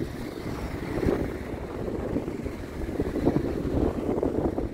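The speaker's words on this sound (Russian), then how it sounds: "Вот такой ветер." Strong gusting wind buffeting the microphone, a low rumbling roar that swells and eases throughout.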